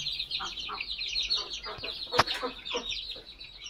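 Frightened Aseel chicks with parrot-like beaks call close by, a busy cluster of high, thin peeps and short clucks, with one sharp louder note in the middle.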